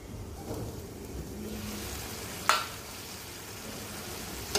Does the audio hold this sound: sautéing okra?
yes